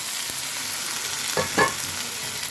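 Rice tipped into a pan of frying vegetables for veg pulao and stirred, giving a steady low sizzle with two short scraping stir strokes midway, close and with no talking.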